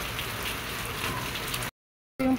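Dense, steady rain patter for most of the clip, then a sudden cut to silence before a short burst of another sound.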